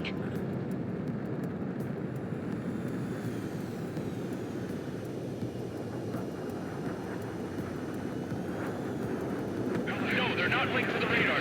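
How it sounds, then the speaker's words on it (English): Enemy transport aircraft taxiing in the video game Ace Combat 7, a steady droning engine rumble that holds for the full length and swells with a brighter hiss near the end, with a voice talking over it. "Enemy transports are taxiing."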